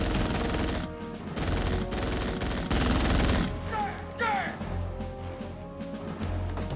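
Bursts of heavy gunfire crackle and boom over a dense, loud cinematic mix, with sharp whizzing accents partway through and a low rumble underneath, from the final shootout of Scarface (1983).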